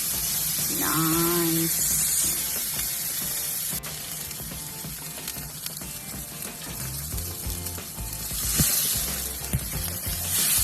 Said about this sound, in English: See that sizzle?